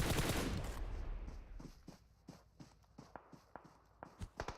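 Gunfire in PUBG Mobile during a competitive esports match, a burst of loud shots at the start giving way to scattered single cracks and short bursts at mid distance.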